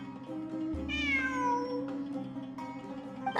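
A cat meows in a video game, a single clear, drawn-out meow with falling pitch over a steady low game soundscape, followed by quieter ambient tones.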